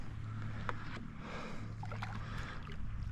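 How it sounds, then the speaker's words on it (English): A kayak paddled near Sanibel Island, Florida: close splashes and drips as the blade dips, a few distinct strokes over gentle water noise and a low background hum. "I'm gonna paddle this guy back to the shore."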